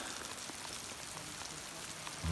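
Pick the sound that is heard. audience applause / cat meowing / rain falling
rain falling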